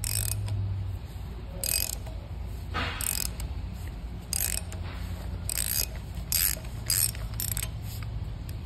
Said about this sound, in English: And it's as simple as using our ratchet, 1/8 socket, and pull the cup out of the head.